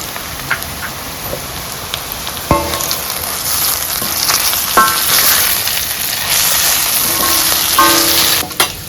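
Ivy gourd (dondakaya) fry sizzling steadily in a pan, a dense crackling hiss with scattered sharp pops and a few clinks of a utensil against the pan, close and fairly loud, with no voices.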